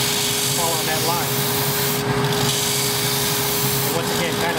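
A continuous abrasive rasp of a bone guitar nut blank pressed against a spinning sanding disc, loud and steady, with a motor hum underneath.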